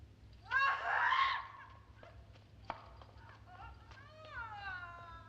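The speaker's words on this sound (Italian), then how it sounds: "Cosa sono queste urla?" Shrill screams ring out at night in the 1971 film Macbeth: one loud, piercing cry is followed by fainter, wavering wails and scattered voices, with a low hum underneath.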